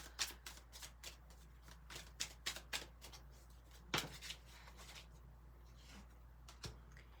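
Tarot cards being shuffled by hand, a run of crisp riffling flutters and soft taps in a quiet room, fairly faint and close, with no talking over them.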